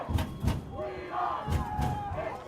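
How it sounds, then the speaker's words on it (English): Holy Name high school football crowd roaring during a night playoff game against Padua, a broad sustained wash of cheering voices with a few thumping swells and shouts throughout. "And now the Holy Name crowd is really into this one."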